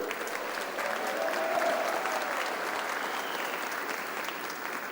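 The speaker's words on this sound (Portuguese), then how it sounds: "Eu peço mais uma salva de palmas" An audience claps through a steady wave of applause at a political rally launching a national sovereignty front in Paraná, sustained and dense, swelling slightly in the middle and tapering a little near the end.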